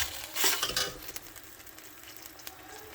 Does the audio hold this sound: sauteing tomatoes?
yes